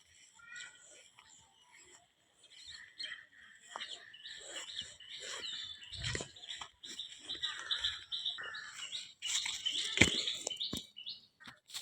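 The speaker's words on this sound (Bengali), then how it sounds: "তোমরা এখানে পাখি ডাকছে তোমরা শুনতে পাচ্ছ কত সুন্দর আওয়াজ" Birds calling in a village forest, a busy mix of chirps and tweets at moderate distance with a few rustles and bumps, faint overall.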